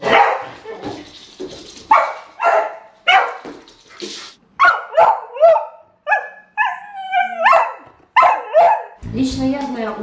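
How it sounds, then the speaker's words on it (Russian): A beagle barks close and loud in a series of sharp, separate woofs, some drawn into howling, baying yelps with brief pauses between them. "Бигли очень любят лаять."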